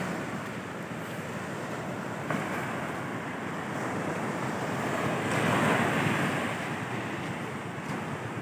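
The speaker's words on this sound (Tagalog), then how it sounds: "Malakas pa rin ang alon." Heavy surf rushes and crashes continuously, with a swell building louder near the middle, mixed with wind noise.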